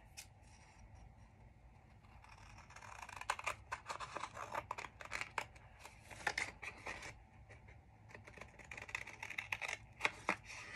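Quiet snipping and crinkling of scissors cutting paper, irregular clusters of sharp little cuts and rustles with brief pauses, close by.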